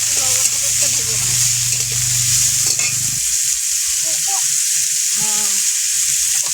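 Ginger, tomato, salt and turmeric fry in a pan with a steady close sizzle and stirring scrapes, while a voice talks over the first half and occasional brief speech breaks in later.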